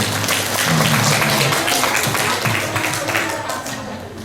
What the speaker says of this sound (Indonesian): Boleh tepuk tangan Ibu.